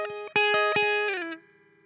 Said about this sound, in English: So here is the basic Ableton amp and cabinet setup without any extra effects on it.